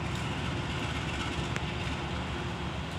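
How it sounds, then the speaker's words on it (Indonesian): A locomotive creeps slowly through a station yard at walking pace at Cicalengka station, giving a steady low rumble with a constant wash of engine and rail noise and one brief click partway through. "Oke, lokomotif perlahan ya karena memasuki emplasemen stasiun."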